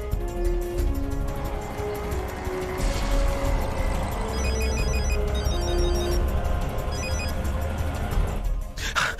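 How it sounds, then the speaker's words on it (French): A telephone rings unanswered, its electronic ringtone chirping in repeated bursts over a steady background drone of music, then cuts off abruptly near the end. "Elle ne décroche pas son téléphone."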